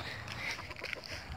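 A hen calls from somewhere off in the distance, a few short, faint clucks and squawks over soft outdoor background.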